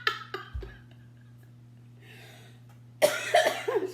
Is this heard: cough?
yes